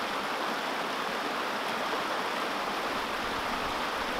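Creek water flows in a constant, dense rush close by, a broad steady wash with no talking.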